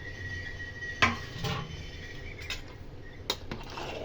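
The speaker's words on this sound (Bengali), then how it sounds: "ভালো করে ঘেটে নেব।" A utensil stirs food with coconut in a pan, with a few soft metallic clinks and scrapes spaced out against a quiet background.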